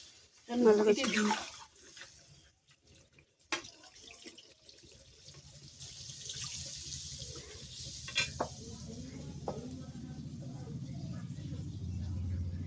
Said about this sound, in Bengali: জল দেওয়া হয়ে গেল